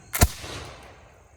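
A Revolutionary War musket volley fires in one loud, sharp blast followed by a short decaying rumble that fades away quickly outdoors.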